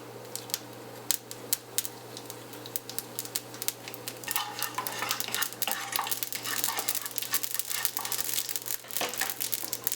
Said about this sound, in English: I'll be adding black mustard seeds and I'll let it splutter